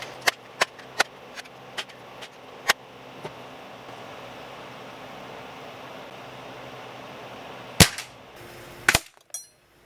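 A .22 caliber air rifle fires a series of sharp, close cracks at irregular intervals, several in quick succession, then a couple more louder shots after a quieter stretch, with a faint hum underneath.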